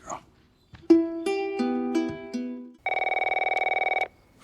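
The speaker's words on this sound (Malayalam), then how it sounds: "ഫോൺ റിങ് ചെയ്യുന്നുണ്ട്." A telephone rings in The Last of Us Part 1 game: a short melodic tone sequence followed by a loud, rapidly trilling electronic ring, heard clearly and alone.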